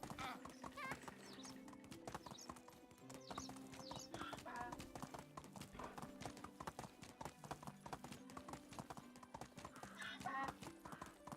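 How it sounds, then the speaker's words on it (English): Horse hooves clip-clop steadily in the medieval life-sim game Medieval Dynasty, a continuous rhythmic trotting with an occasional faint whinny and quiet talk in the background. "You can travel with your horse."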